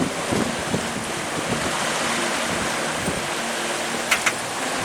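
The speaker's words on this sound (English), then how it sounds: "enjoy the sound of the wind and the waves" Ocean waves wash and wind blows steadily at sea aboard a sailboat on the edge of the Bahama Bank, a constant broadband rush with gusty microphone buffeting and a couple of brief splashes near the end.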